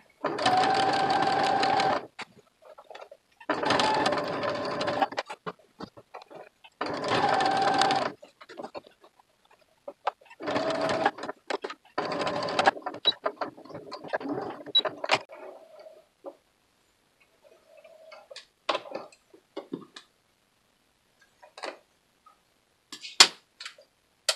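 A sewing machine stitches a fabric cinch sack in several loud bursts of rapid needle clatter, separated by pauses. The bursts grow shorter and sparser toward the end, with light clicks and handling noises in between.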